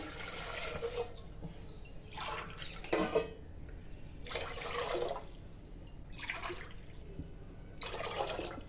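Water runs and splashes into a pot for jackfruit payasam in several pulsing surges, a close, hollow gurgling pour with short lulls between streams.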